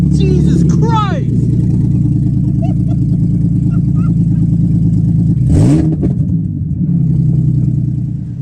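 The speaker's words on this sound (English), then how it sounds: "The car sounds the way it does because it's open header with 6-inch header extenders on it" A loud, rough engine of a 2006 Mercedes C230 with a 3.5-liter swap and open headers with 6-inch extenders idles and revs close by, with a brief sharp burst partway through and voices heard over it.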